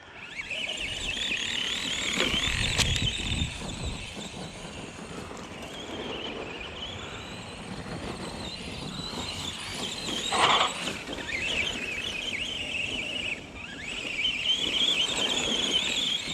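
An Arrma Granite Mega RC monster truck drives with a continuous high electric motor whine that surges and fades as it speeds around, with occasional bumps and louder bursts.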